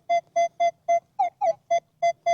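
A metal detector emits a run of short, steady electronic beeps, about four per second, with a couple of warbling, pitch-bending tones midway, over a shallow target on a beach at night.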